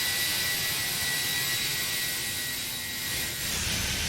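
Airbus A319 airliner landing in a flight simulator game, a steady broadband jet engine roar with a faint whistle, holding nearly constant with a slight dip late on, moderately loud and with no talking.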